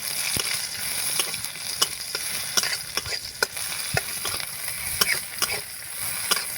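Chopped onion frying in a pan, a soft steady sizzle broken by regular sharp clicks and scrapes of stirring, close and fairly quiet with no talking.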